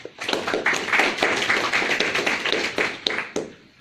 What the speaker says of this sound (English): Please give a round of applause for our panelists